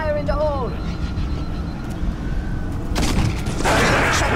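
A grenade blast in Halo: Reach Firefight on Xbox One: a broad roaring burst toward the end over a constant din of battle noise, with a brief whistling tone near the start.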